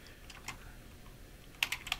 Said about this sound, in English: I'm going to select this text and use the keyboard to type James Harden field goal attempt